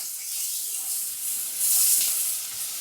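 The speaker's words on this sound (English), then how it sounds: "Frying the spices help to release the flavours." Garam masala and other ground spices frying in a pan and stirred, a soft steady sizzle and hiss close up with a brief louder burst of sizzling.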